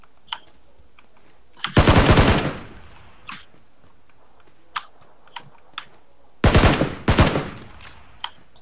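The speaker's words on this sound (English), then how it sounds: "Are you shooting at him?" Two loud bursts of rapid automatic gunfire in a shooter video game, separated by several seconds of quiet with scattered light clicks and taps, no talking.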